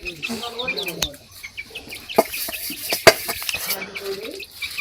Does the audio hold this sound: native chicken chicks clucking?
yes